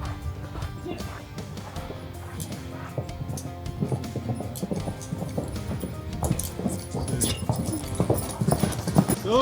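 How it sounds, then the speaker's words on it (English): Horses galloping down an alley on a western movie set, their rapid hoofbeats clattering close and growing louder as they approach, with faint voices and a dog in the background. "some horses are gonna rip down this alley"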